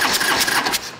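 Orange County Chopper turbo motorcycle engine at full throttle, a loud close one-second roar with a rough pulsing rumble that eases off at the end.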